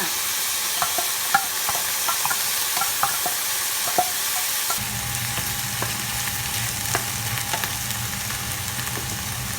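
Canned tuna, poured in with its liquid, is stir-fried in a pan with mushrooms for a spaghetti sauce: a steady sizzle under repeated spatula scrapes and taps, with the frying swelling louder halfway through.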